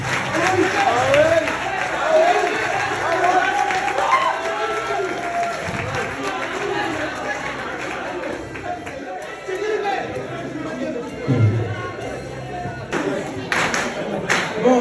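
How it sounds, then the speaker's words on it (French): Students cheer and applaud in a mock national assembly in Mbour, with steady crowd clapping and voices layered together throughout, loud and close, with shouts rising above the din. "merci pour les salutations et les acclamations"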